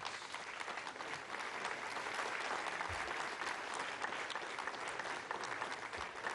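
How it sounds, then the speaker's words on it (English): Sustained applause from a mission control audience right after Ariane 5 confirms separation of the GSAT-10 communication satellite, a dense steady wash of clapping that holds evenly throughout. "There we go. And the applause."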